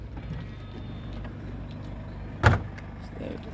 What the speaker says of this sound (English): Electric tailgate.